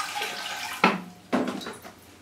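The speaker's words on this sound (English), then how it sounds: "so it needs some water." Water pours into a potted orchid from a container in two separate splashy bursts, each with a sharp onset that trails off into trickling. Close and moderately loud, with no talk.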